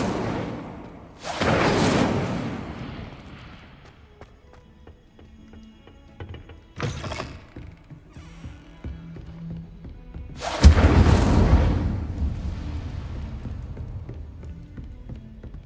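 Incendio fire spells cast in the video game Hogwarts Legacy, heard as three loud whooshing bursts of flame with a thudding low end, spaced several seconds apart, with quieter game ambience in between.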